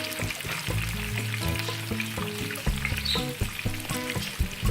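Chicken frying in a pot for a yakhni pulao, a steady close sizzle running throughout with soft clinks and stirring mixed in, and no talking.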